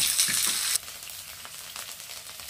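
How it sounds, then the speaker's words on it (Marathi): Cumin and mustard seeds crackle and sizzle with green chillies in hot oil, a bright loud hiss that drops off sharply to a softer sputter after a moment. "जिरे मोहरी तडतडू द्या."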